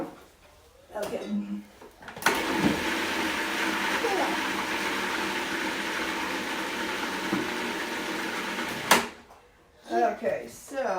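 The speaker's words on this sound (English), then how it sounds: "I'm just going to turn the food processor on" A food processor chops strawberries for gluten-free, plant-based strawberry donuts, starting with a sudden loud whir that holds steady for about seven seconds and then cuts off, with quieter kitchen clatter before and after.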